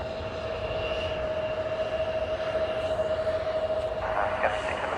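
A KLM City Hopper airplane at Manchester Airport on a cold, windy day, heard as a steady distant engine drone with a sustained whine, fairly faint and continuous under outdoor wind noise.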